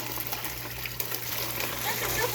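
Water pours into a container for brining a turkey, a steady gushing flow with a low hum beneath that grows slightly fuller toward the end, heard alone without talking.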